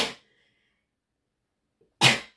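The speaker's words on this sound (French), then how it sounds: "Et je crois que je vais éternuer." A single person sneezes sharply, a brief burst followed by quiet, then a second short sharp burst close to the microphone.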